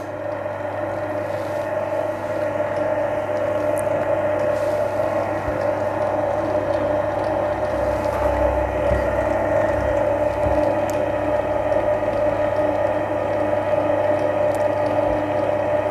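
Stand mixer running on its low setting while whisking royal icing, a steady mechanical motor hum and whir that stays even and unbroken throughout at close range.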